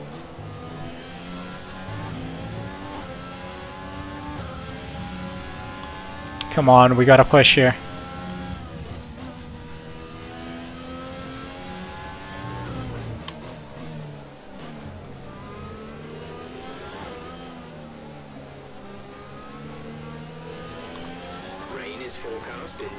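Race cars in the F1 2020 racing game: a continuous engine whine from a pack of cars runs under steady talk, with one loud revving burst partway through.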